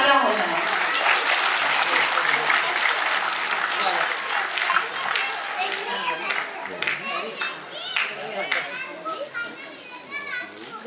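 Enthusiastic applause at a workplace foundation-day award ceremony as a regional office is announced as first-prize winner, dense steady clapping filling the hall and gradually thinning, with children's voices and crowd chatter mixed in.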